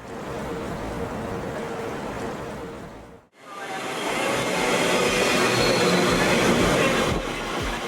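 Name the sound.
London Underground train riding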